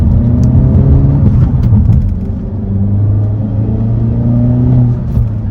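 A Hyundai Elantra N with a manual gearbox, driven in N mode, gives a deep, loud engine and exhaust drone with a steady low rumble that shifts pitch slightly as the car pulls along.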